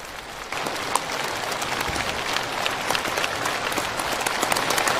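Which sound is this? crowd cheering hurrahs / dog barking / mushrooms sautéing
crowd cheering hurrahs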